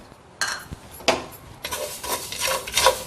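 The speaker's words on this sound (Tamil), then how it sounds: "அடுத்தது நெருப்பு மூட்டி நான் ஒரு மண் பாத்திரம் வச்சிருக்கேன். அதுல நம்ம வெந்தயத்தை வறுத்துக்கலாங்க." Fenugreek seeds being dry-roasted in a clay pot over a wood fire, with scraping and stirring scuffs against the earthenware; a few sharper knocks at first, then a steadier, busier rustling stir close by with no talking.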